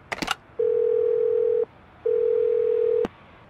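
Two long, steady electronic ring tones from a phone call in the video game Do Not Feed the Monkeys, following a brief click, each ending abruptly with a pause between them.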